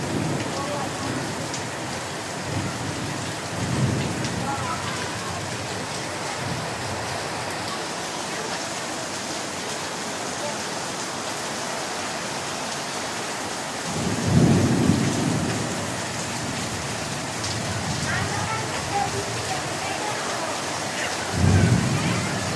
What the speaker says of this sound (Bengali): চমকানো আওয়াজ তো অবশ্য আপনারা পাচ্ছেন